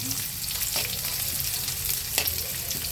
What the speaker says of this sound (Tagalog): Ilagay na yung sibuyas. Tapos, gisa-gisahin lang.